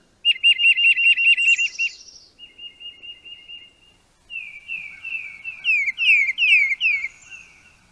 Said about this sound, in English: This is a common call, Peter, Peter,